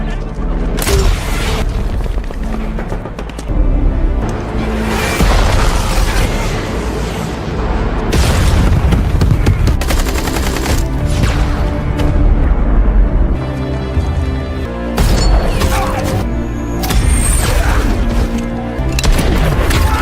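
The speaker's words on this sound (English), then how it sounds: "We are taking heavy fire from two-man RPG teams" RPG rockets and heavy fire hit a compound in an action film, producing loud, continuous booms and crashing blasts that roll one after another over a dense battle roar.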